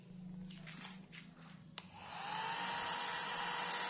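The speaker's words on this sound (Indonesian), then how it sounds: "Nah ini aku pakai hair dryer ya, aku cobain dulu pakai hair dryer" A hair dryer being used to dry a fabric sofa, first running with a low hum and a few faint shuffles, then switching to a louder, steady whooshing roar that continues to the end.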